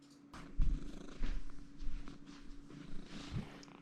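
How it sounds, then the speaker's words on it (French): A cat purring steadily and close up, a low rumbling pulse with no talk over it. "En fait, dans le cas de Fudge, ce serait plutôt des ronrons de la fin plutôt que des mots de la fin"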